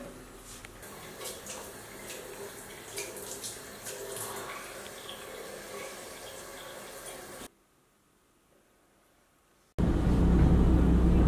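Water is poured over an irritated eye to rinse it, a steady close splashing trickle that runs for several seconds, drops out briefly, then returns as a louder rush.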